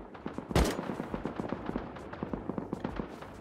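An M2 heavy machine gun fires from atop a tower in a video game survival raid, delivering a steady rhythmic stream of loud gunshots with one sharper, closer blast near the start.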